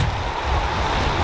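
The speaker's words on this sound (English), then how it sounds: "Alright, getting in the water here." Steady rushing wash of cold river water around legs as someone in a dry suit wades in, a continuous close broadband swirl with no talk.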